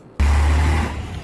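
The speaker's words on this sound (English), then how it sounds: "Many trucks coming with furniture" Heavy trucks loaded with furniture roar past close by on La Palma during a volcanic eruption, a loud sustained engine rumble that starts abruptly and holds steady before easing slightly.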